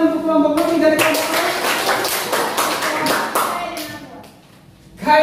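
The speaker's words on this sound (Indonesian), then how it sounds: "tepuk tangan untuk kelompok Novi" A classroom of students claps for a small student group, a quick loose patter of hands that starts abruptly, holds for several seconds, then fades before a fresh sound at the end.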